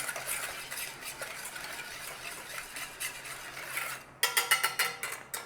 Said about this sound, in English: we're just helping it on its way by stirring it all in like that